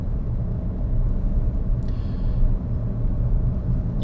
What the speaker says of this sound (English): as you accelerate up, eventually it will change gear